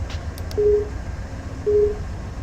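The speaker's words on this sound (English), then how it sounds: "Did you hear the bells? Because the train just spawned right in front of us." Train bells in the Run8 train simulator video game sound as two short, evenly spaced tones, faint and steady against a low background hum.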